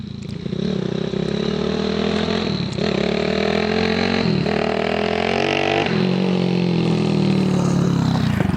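A 1975 Honda CT90 postie bike fitted with a 212cc engine, revving steadily nearby with rising and falling throttle blips over a continuous loud drone.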